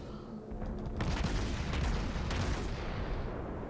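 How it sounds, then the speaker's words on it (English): Naval gunfire in World of Warships, a dense cluster of booming blasts that rolls into a low, sustained rumble, fairly loud and with no voices over it. "Gonna switch to AP after this salvo."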